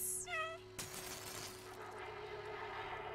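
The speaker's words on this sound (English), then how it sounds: "Guys, I meowed it. I meowed at it." A cat in the video game Stray gives a short, clear meow at the start, followed by a sudden burst of broad noisy game ambience that continues to the end.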